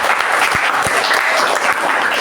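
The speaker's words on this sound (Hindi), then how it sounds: "जोरदार तालियों से" Steady, loud audience applause at a Hindi quiz semifinal for class 7 students, welcoming the judge, with a few sharper individual claps standing out from the continuous clapping.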